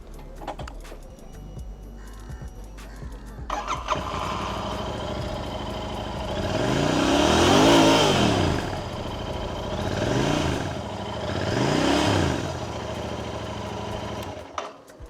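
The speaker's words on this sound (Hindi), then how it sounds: "GT कॉन्टिनेंटल की बात करें तो इसका जो एग्जॉस्ट नोट है कुछ इस तरह से है।" A Royal Enfield Continental GT motorcycle engine starts after a few seconds of quiet, then runs with a deep, throaty twin-cylinder exhaust note that swells in several strong revs.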